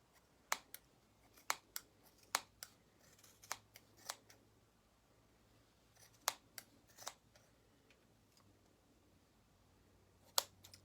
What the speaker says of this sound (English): I'm going to go ahead and trim all of the loops.